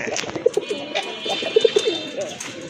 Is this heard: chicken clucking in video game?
no